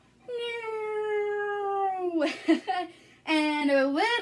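Children imitate a cat's meow with long, drawn-out voiced meows, one sustained for about two seconds followed by a shorter burst of meowing, close and loud.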